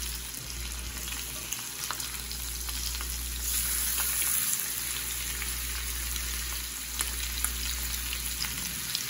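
Chicken and pork andouille sausage, marinated in BLoves sauce and mayonnaise, frying in a pan, with a steady close sizzle and crackle that holds at even loudness throughout, no voices.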